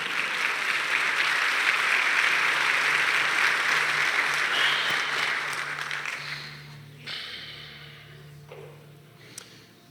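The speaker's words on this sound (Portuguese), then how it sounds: "Dando um aplauso bem forte a Jesus." A church congregation applauds strongly in sustained, dense clapping that holds for around six seconds before tapering off into quieter scattered claps and room noise.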